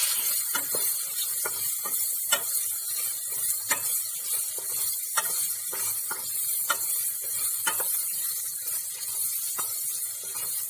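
Chopped cabbage and carrots for a Bengali mixed vegetable dish cook in a pan with a soft steady hiss, broken by regular sharp clicks of a utensil stirring and tapping the pan.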